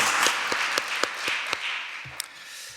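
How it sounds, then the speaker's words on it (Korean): A church congregation applauds during a Sunday worship service, giving a short burst of mixed clapping with a few louder, sharper individual claps standing out as the sound tapers off. "하나님께 영광의 박수 올려드리겠습니다"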